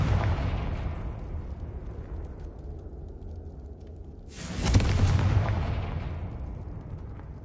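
A Confringo spell blast in Hogwarts Legacy: a loud, sudden explosion that bursts in after a long rumbling fade and then decays slowly.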